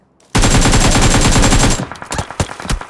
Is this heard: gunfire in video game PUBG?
yes